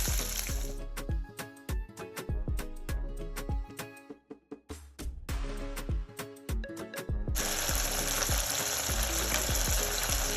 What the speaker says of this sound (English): we're gonna saute these for about 2 minutes